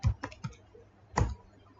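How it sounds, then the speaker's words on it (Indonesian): Clicks of a computer keyboard as a web address is typed into a browser, a short burst of three quick keystrokes, a pause, then one louder close press, with no talking. "lalu kita ketikkan localhost /phpMyAdmin"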